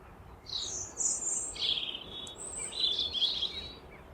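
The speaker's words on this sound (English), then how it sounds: "There are a range of birds that we can hear right now." Several birds sing outdoors, light bright chirps and short trills trading back and forth at a moderate distance over a soft, steady background hush, with no voices.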